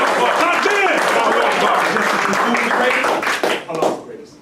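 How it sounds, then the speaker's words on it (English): Audience applause at a religious holy day gathering, steady loud clapping from a crowd that fills the space, with voices mixed in, then tapering off near the end. "Give our brother a round of applause."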